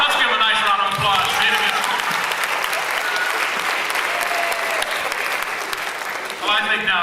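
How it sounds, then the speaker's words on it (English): An audience bursts into sustained applause after a magic trick at an emceed 1990s show. The clapping stays full and steady, with a few brief vocal sounds and some crowd noise mixed in. "Let's give a nice round of applause"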